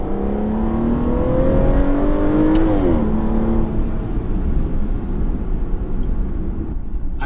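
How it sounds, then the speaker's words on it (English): A 2014 Aston Martin Rapide S V12 engine revs loudly up and then drops back, a steady rising drone with a sharp fall near three seconds before settling into a lower continuous rumble, with no voices. "I need that V12 noise in my life"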